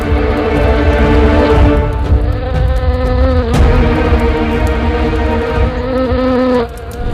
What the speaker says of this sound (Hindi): अगर तुम मेरे लिए कुछ करना ही चाहते हो तो इन मक्खियों को यहां से भगा दो।